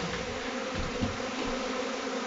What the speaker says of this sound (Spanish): Vean la cantidad de abejas que se alborotan por la alimentación